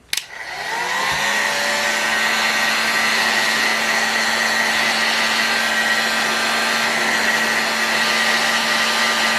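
A heat gun switches on with a click and settles into a steady, loud whooshing drone with a constant whine, blowing onto thick Boca Bearing Skyward 40 engine crankcases.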